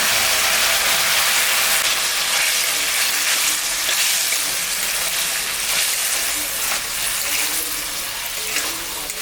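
Ginger, garlic, onion, cumin, coriander and dried and green chillies fry in a pan for a prawn and fig curry, giving a loud, steady sizzle with occasional stirring scrapes and no voices.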